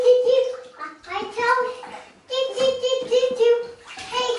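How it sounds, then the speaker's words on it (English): A young girl bathes in a home bathtub, chattering almost nonstop in a reverberant bathroom, with soft water movement mostly underneath her voice. "taking a bath right now"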